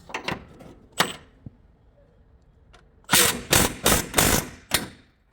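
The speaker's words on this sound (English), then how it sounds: "So we'll open the bolt here." Subframe bolt on a Nissan 350Z being loosened with a flexible-head wrench, giving sharp metallic clicks and cracks at first, then a quick burst of five or six loud ratcheting snaps near the end.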